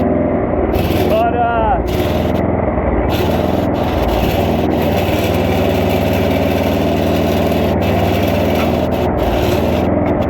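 A homemade mud mower's small engine runs at a rough steady idle close by, a continuous low chugging drone throughout, with a voice talking briefly over it.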